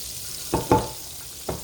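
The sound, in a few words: French toast frying in skillet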